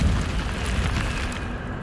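An Incendio fire spell bursts in Hogwarts Legacy, a dense, rumbling blast that stays loud and sustained for under two seconds without fading.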